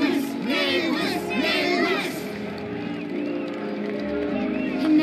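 A crowd in the video game Honkai: Star Rail roars and cheers with overlapping shouts and voices, a loud, continuous wash of excited noise that swells and dips.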